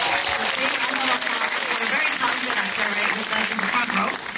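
An audience at a Korean film event applauds, bright dense clapping that runs steady and loud for several seconds with a faint voice or two underneath.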